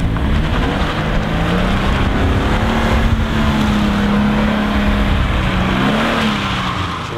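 A stock Toyota 86 driven hard around a wet race track, its engine holding a loud, steady, close drone throughout with slight pitch wavering as the tyres struggle for grip.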